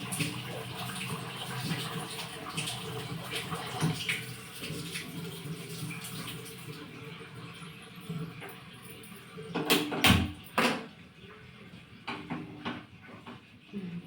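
Water runs and trickles steadily into a vessel close by, with a few clinks and knocks toward the end.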